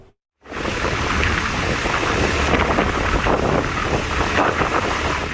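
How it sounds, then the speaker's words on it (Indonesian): Strong wind roars over the microphone at Merak port during a storm with big waves, making a loud, continuous gusty rush after a brief quiet opening. No distinct wave crashes stand out. "Angin kencang serta ombak besar membuat kapal yang akan bongkar muat kesulitan bersandar di dermaga"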